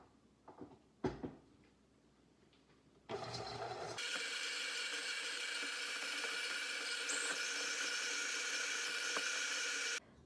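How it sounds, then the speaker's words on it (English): An electric stand mixer creams cookie dough with a loud, steady motor whir that starts abruptly after a few handling knocks and runs without letup for several seconds. "Now that that's all in the mixer, you're going to mix until creamy"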